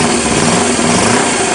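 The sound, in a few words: engine idling with late intake valve closing, valve noise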